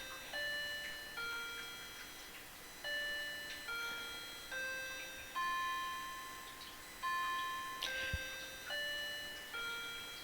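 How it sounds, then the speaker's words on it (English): A clock chimes and ticks near a crafting table in a quiet room, with a series of bright bell-like tones spaced every second or so, alone with no voices. "And there goes my clock"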